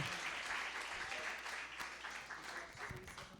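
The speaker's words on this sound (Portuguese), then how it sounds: "aplauda o Senhor Jesus" A church congregation applauds, a faint, distant wash of steady clapping from many hands lasting a few seconds, with a hint of voices underneath.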